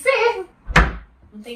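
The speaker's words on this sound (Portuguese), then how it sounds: "Não tem freio, a porta só é pesada." A heavy apartment door with no closer swings shut with a single solid thud, close and loud, in a Lisbon apartment, with people talking just before and after it.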